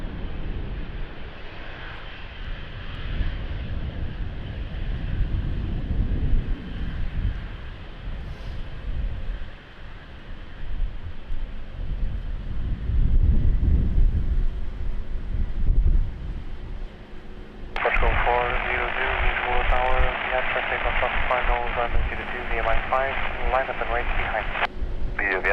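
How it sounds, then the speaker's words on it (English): Airliner taking off from Lisbon Airport on a windy day, a broad engine roar that swells and lingers over gusting wind noise, with radio voices heard near the end. "Wow, what a rocket takeoff!"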